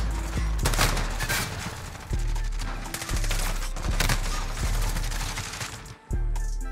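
Rapid bursts of Encryption MK9 light machine gun fire in Modern Warfare, loud and sustained, with short pauses between strings of shots.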